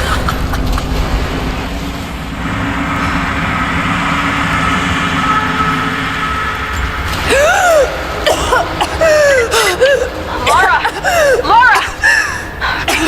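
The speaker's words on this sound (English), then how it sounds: "You started coughing" After a stretch of low engine-like rumble, a video game character in Rise of the Tomb Raider coughs and gasps repeatedly in short harsh bursts, close and loud.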